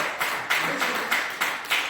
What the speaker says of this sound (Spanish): Un aplauso al Señor, pues